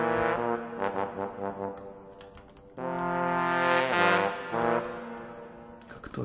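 A Sample Modeling virtual trombone plays a legato phrase, sustained brassy notes gliding smoothly into one another, a few short separated tones and then longer held ones, clear and alone.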